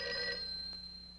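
A telephone rings once in a Disney cartoon about birds: a single bright, buzzing tone that fades over about a second, with no voices.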